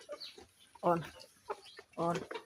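A blind hen clucks close by in a small run of short, throaty clucks with pauses between them, soft and near, with faint voices in the background.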